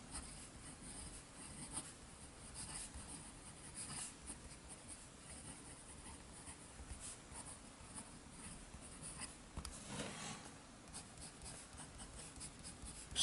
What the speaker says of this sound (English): you don't feel the nib dragging on the paper